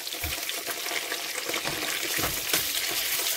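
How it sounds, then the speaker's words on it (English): Chicken wings fry in hot oil at home, a dense, bright sizzle with crackles and pops rising and falling steadily throughout, close and moderately loud. "I'm frying some chicken wings for them."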